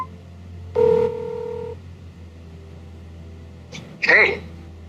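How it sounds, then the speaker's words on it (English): An AI Pin places a phone call, giving a single sustained dial tone near the start, then a short electronic chirp and a bright burst toward the end, over a low steady hum. "Of course, you can make a phone call."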